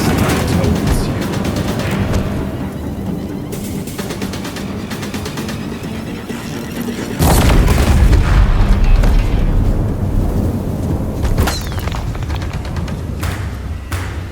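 Deathbringer war machines from Horizon Zero Dawn firing in heavy, booming bursts, with a loud surge of explosive rumble midway that keeps thudding on under a dense game score, no voices.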